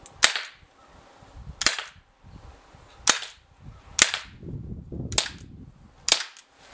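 A Gamo PT85 CO2 air pistol fires six sharp, snappy shots at roughly one-second intervals, close and loud, with quiet handling sounds between them.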